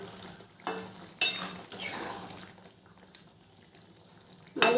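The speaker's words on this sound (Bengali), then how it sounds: "ভালো করে নেড়ে দেবো।" Okra and potato curry being stirred in a pan after simmering under a lid, with clattering scrapes of a utensil against the pan over a soft sizzle, several sharp strokes spaced apart and loud at close range.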